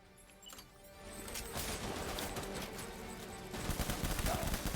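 Rapid assault rifle fire in the video game Death Stranding crackles in dense, repeated bursts, growing louder and more intense toward the end.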